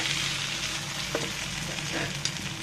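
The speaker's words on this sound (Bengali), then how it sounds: "চুলার আগুনটা কিন্তু একদম লো করে রেখেছি, এটার মধ্যে ভাজা ভাজা হয়ে যাবে। পেঁপেটা প্রায় সিদ্ধ হয়ে গিয়েছে।" Raw papaya frying in a pan over a very low flame gives a steady, even sizzle with a few light stirring taps, close by and without speech.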